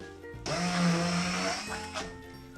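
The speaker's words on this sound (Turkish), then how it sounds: "bu aşamada blender ya da mikserden pürüzsüz kıvam elde edinceye kadar geçirelim" A blender or mixer purees cream for a spinach cake, starting abruptly with a loud, steady motor whir that holds for about a second and a half, then cuts off with a brief restart burst near the end.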